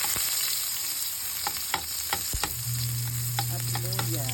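Garlic, onion and ginger sizzle in a hot pan as they are sautéed, a steady frying hiss broken by a few sharp stirring scrapes and clinks, with a low hum entering partway through.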